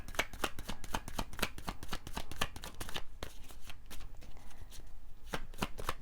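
Tarot cards are shuffled close by in quick, rhythmic riffling bursts. A quieter pause comes in the middle before the shuffling resumes.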